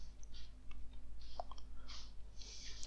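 Light mouse clicks at a computer, a few sharp isolated taps scattered across a quiet stretch with steady low hum underneath.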